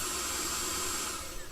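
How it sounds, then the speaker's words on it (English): A handheld mosquito aspirator, used to vacuum mosquitoes out of resting boxes, gives off a steady, close airy whoosh that holds even and loud before wavering slightly at the end, with no voices. "This is an aspirator. It's a tool that we use to vacuum mosquitoes out of resting"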